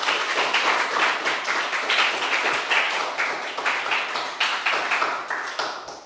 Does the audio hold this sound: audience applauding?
yes